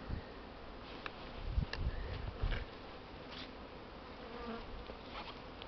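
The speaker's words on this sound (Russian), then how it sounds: "И вот буквально все ульи вышли на облет." Honeybees pour out of hives on a winter cleansing flight, a dense close buzzing swarm with individual bees droning past, quiet and continuous.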